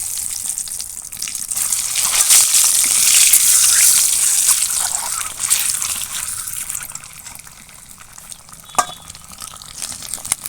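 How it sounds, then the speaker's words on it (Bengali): Boiled eggs fry in hot oil with turmeric, giving a loud, steady crackling sizzle that swells and eases, with stirring scrapes and a sharp clink near the end. "এবার ডিমগুলো ভেজে নেব"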